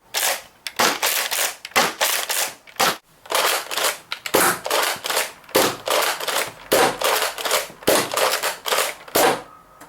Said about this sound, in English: I'm going to show you stock firing versus modified firing.